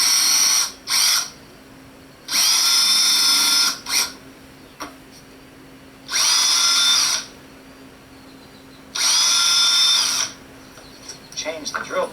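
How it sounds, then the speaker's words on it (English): A power drill whirs in several short, loud bursts drilling pilot holes, separated by pauses, with faint clicks and handling noise between them. "if you have a super cool dad who has a drill, you can put in a couple of pilot holes"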